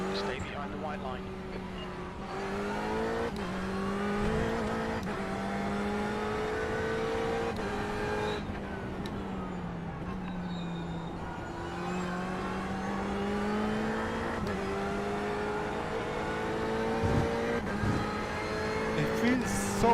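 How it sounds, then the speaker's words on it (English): A car in a racing simulator engine hums as it draws nearer and passes, its pitch climbing and shifting through several gear steps, steady and fairly loud, with a person talking over it at times. "There's a car approaching."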